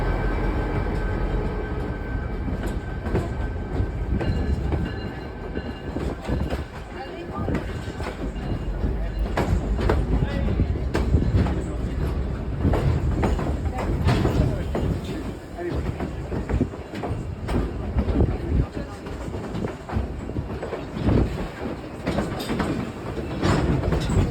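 A train rumbles steadily along the rails near Rocky Point, Alaska, with rhythmic clacking and low rolling noise throughout, loud and close, with voices audible underneath.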